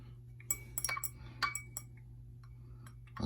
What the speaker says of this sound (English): Now we're going to give that a stir.